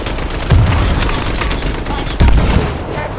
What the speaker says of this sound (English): They're under heavy fire.